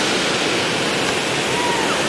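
Jungle waterfall in Belize, a loud continuous rush of falling water with a steady, broadband roar close by.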